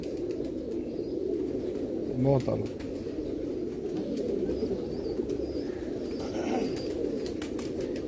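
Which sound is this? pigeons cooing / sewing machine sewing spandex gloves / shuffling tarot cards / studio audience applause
pigeons cooing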